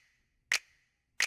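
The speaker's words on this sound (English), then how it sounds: "some snaps," Two crisp finger-snap samples from a trap beat ring out alone against near silence, sharp and bright, spaced about seven-tenths of a second apart, each with a short, quick decay.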